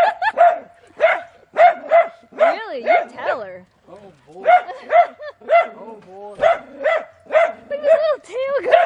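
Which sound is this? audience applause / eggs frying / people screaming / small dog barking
small dog barking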